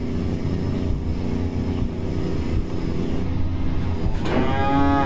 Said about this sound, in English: bulls are kicking up a fuss